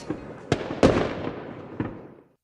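Fireworks go off in a quick series of sharp bangs, each followed by a crackling, rumbling tail that fades away. They are loud and fairly close, and no voices are heard.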